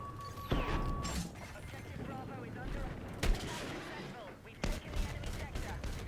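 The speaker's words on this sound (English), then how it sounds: "I'm just going to keep shooting into the smoke." Gunfire in Battlefield 6 as a player sprays shots into a smoke cloud during a spawn-trap push, with sharp reports standing out over a dense background of battle noise while talk continues.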